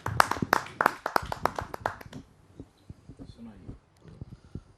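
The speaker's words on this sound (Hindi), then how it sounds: "आइए आपके शब्दों को हम सुनते हैं दर्शकों की जोरदार तालियों के माध्यम से" Audience applause at a Hindi kavi sammelan poetry gathering: a quick burst of sharp, rapid claps that fades after two seconds into a few scattered, fainter claps.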